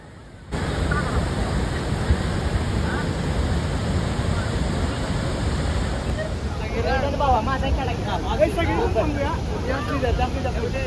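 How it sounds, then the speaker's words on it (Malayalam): A steady roar of rushing water from Athirappilly Waterfall fills the scene throughout, with people talking faintly underneath in the second half. "അങ്ങനെ ആതിരപ്പള്ളി വെള്ളച്ചാട്ടത്തിന്റെ അടുത്തെത്തി"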